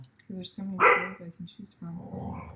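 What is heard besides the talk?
dog Ernie barking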